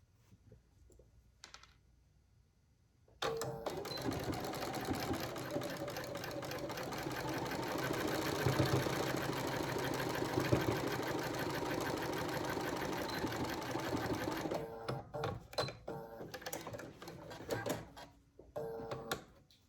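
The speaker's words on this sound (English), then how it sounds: "let's sew the other end on" Sewing machine stitching the ends of quilt fabric strips together, a close, steady rapid mechanical whir lasting about eleven seconds, with soft handling noises before and after.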